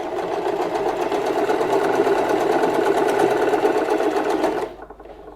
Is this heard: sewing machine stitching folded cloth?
yes